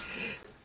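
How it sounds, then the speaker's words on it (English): One sharp, loud cough bursts out at the very end after a few quiet moments. "Cannot shift the silly cough."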